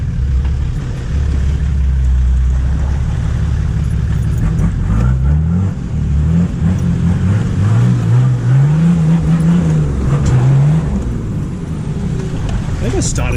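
A Nissan GQ Patrol with a TD42 diesel engine revs and pulls in second gear on a night 4WD run, a deep steady drone with rising pitch sweeps midway, alongside road and cabin noise.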